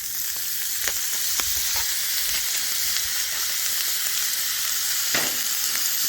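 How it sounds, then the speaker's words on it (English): Shrimp sizzle in oil on a flat-top griddle for fajitas, a dense, close frying hiss with scattered spatula clicks and scrapes as they are spread out, steady and loud with no voices. "Go ahead and put a little oil down and get our shrimp on"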